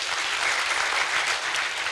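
An audience applauds steadily, with dense, even clapping at moderate volume from start to finish.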